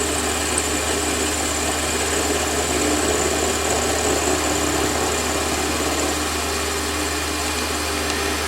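A metal lathe turns a workpiece for a shop-made knurling tool, taking cuts half a millimetre deep, with a steady close motor hum and continuous cutting noise throughout and no talking.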